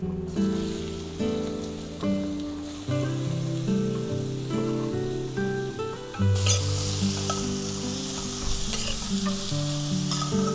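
Onions frying with salt and turmeric in a pan, a loud continuous sizzle that surges brighter partway through, with stirring and a sustained tonal hum running underneath.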